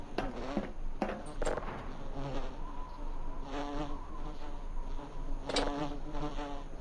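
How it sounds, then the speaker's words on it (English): Bees or hornets buzz steadily in the game Voices of the Void, a close, persistent drone under intermittent clicks and rustling footsteps. "Why do I hear bees?"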